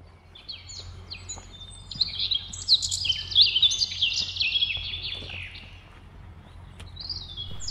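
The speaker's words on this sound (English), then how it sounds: "I hope that you've been able to pick up some of the birdsong." Birds chirp and sing in New Forest woodland near old pine trees on Half Moon Common in May. Bright, overlapping calls swell in the middle and then ease off, fairly close, with no talking.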